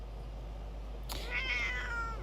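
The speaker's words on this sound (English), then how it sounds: "I don't know if you guys heard her meow. She's really loud today." A cat lets out a single drawn-out meow, rising and then falling, heard indoors against a quiet low hum.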